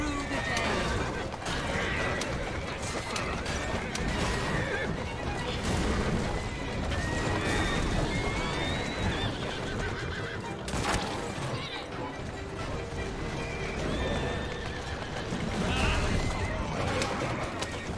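Horses drawing carriages in the video game Assassin's Creed Syndicate whinny and clop along amid crashes and street bustle, with voices talking over the commotion.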